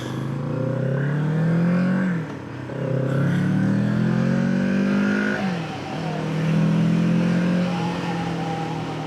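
A 2026 Kawasaki Z650 S motorcycle engine held in first gear, revving and pulling with rising and falling pitch, a close, loud engine drone with a brief dip before climbing again.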